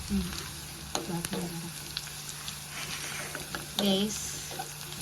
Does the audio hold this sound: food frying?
yes